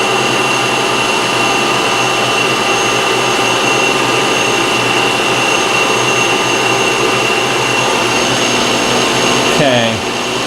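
Loud, steady whine of a machine running while a form tool cuts a BMW clutch pivot ball, a constant droning hum throughout that winds down abruptly at the very end.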